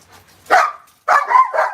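A German shepherd barks during a game of fetch: one sharp bark, then a quick run of two or three close, loud barks.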